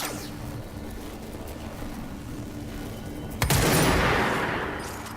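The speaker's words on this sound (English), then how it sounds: "You charge it up and then shoot." The precision weapon in the video game Control hums with a low steady charging drone, then fires a loud sudden blast that leaves a bright rushing roar fading out over the final seconds.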